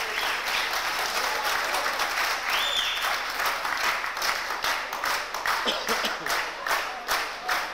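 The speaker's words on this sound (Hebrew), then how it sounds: "אני חושב מגיע למחיאות כפיים." Audience at an evening of thanks applauding in a hall, dense sustained clapping with some crowd voices mixed in, steady and fairly close.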